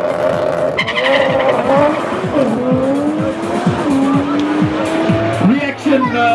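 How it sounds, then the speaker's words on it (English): A Nissan GT-R drag car launches on a 9-second run at Nitro Raceway, its engine roaring loud and close through rising gear pulls with squealing tires, while an announcer talks over it. "for another 9 second run by Logan in the GTR car, proudly built by NXT."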